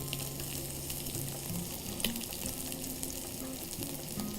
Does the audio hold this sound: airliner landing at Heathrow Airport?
no